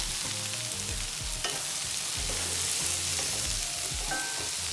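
Boiled chickpeas (chole) sizzle in hot oil in a pan, a steady close frying hiss with soft stirring scrapes and knocks throughout.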